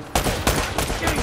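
Gunfire in the video game Uncharted: Drake's Fortune comes as four loud, evenly spaced booming shots, each with a lingering tail, close and dominant with nobody talking.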